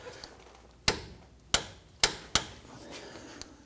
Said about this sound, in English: go ahead and torque this down to 57 foot-pounds